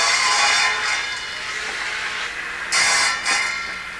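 Steady rasping of a saw cutting through wood at a wood-export cooperative in 1985, with a few sharper strokes near the end over a constant mechanical background.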